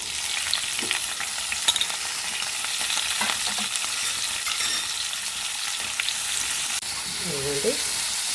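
Onions and green chillies frying in oil in a pan, a steady close-up sizzle with occasional scraping and stirring clinks, and no talking over it.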